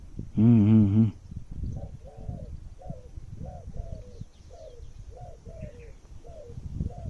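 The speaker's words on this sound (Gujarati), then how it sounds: "ઉપર હોલો બોલે જો. હા હોલો બોલે, બીજી ત્રીજી ચકલીઓ બોલે" Outdoors in the countryside, a dove coos in a steady series of soft, repeated phrases while sparrows chirp faintly in the background, after a brief loud tonal call at the start.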